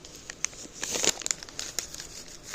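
Gusseted resealable Mylar storage bags being handled, giving bursts of crinkling and crackling plastic film up close, with sharper rustles clustered in the middle and no talking.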